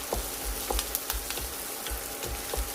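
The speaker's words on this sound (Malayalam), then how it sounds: "അതുകൊണ്ടാണ് എണ്ണ നല്ലോണം ഇട്ട് വേണം ഇത് വഴറ്റിയെടുക്കാൻ." Chilies, onion and garlic sautéing in sesame oil in a pan, a steady close sizzle with soft scraping stirs at intervals.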